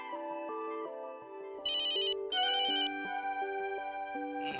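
A melodic phone ringtone plays steadily, with a brighter, louder chiming passage bursting in partway through; no voices.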